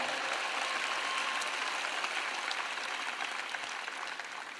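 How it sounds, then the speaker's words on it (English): A crowd applauding congressional delegates and state legislators at a political rally, a dense, even roar of clapping that holds steady and tapers slightly toward the end. "Y'all please give them a round of applause"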